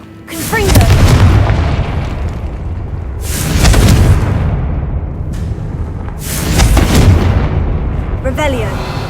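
Confringo fire spells in the Hogwarts Legacy video game burst as three heavy, booming explosions, each with a rolling rumble that fades before the next one hits.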